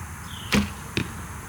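A wooden arrow loosed from a longbow toward a can makes a sharp whooshing snap, followed about half a second later by a shorter second burst, both close against a quiet background.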